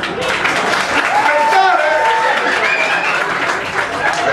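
Applause from a live audience at a Greek ghost-house themed show fills the whole stretch with steady, dense clapping, while voices and laughter mix in over it.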